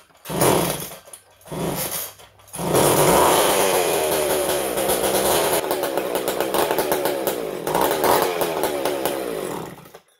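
A vintage McCulloch 10-10 chainsaw engine sputtering through a few short bursts, then catching and running loud and close with a rough, uneven idle and revving, no talking.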